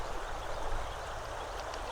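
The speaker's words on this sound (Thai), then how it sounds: "น้ำไหลแบบนี้ ตื้น ๆ อย่างเงี้ย" A shallow, clear stream at a campground in Mae Taeng, Chiang Mai, Thailand flows and babbles steadily over stones, a constant close gurgling rush with no voices.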